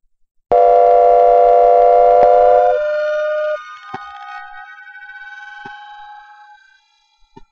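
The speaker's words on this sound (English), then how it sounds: "It's already sounded like an air raid or a tornado siren." An air raid siren is synthesized in LMMS with a pitch shifter: a loud, steady tonal wail sounds alone, steps down in pitch, then thins into fainter tones with a few soft clicks before stopping.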